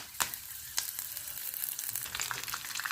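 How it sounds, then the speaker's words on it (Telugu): Peanuts, chana dal, urad dal and curry leaves fry in hot oil with a steady, soft sizzle, punctuated by a few sharp pops and crackles. "నేను చక్కగా వేపేసుకున్నాము"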